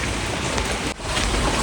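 Steady rain falling outdoors, a dense even hiss of drops filling the whole span with a momentary dip partway through.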